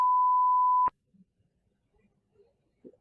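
A single steady electronic censor beep, lasting just under a second, masks redacted personal information in a police interview recording, then cuts to near silence with faint small noises.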